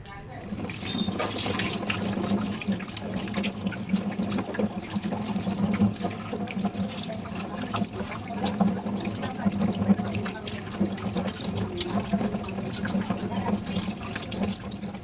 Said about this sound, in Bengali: তো মাছটা এখন ধুয়ে নিই